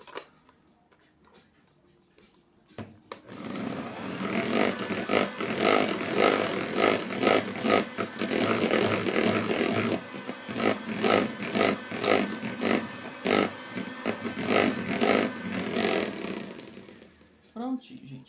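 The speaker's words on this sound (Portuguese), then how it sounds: "Vou bater aqui na batedeira só para homogeneizar mais rápido" An electric stand mixer beats red velvet cake batter, a loud continuous whirring drone with pulsing rhythmic churning that starts abruptly after a quiet moment and cuts off near the end.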